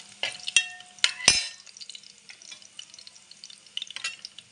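Ground onion and tomato paste goes into hot oil with reddened garlic in a pan for a spicy crab curry, with a few sharp clinks and spoon strikes at first, then a soft steady sizzle and stirring.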